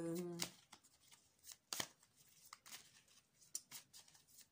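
Tarot cards are shuffled in a few crisp riffling bursts, close and quiet, with a brief voice at the start.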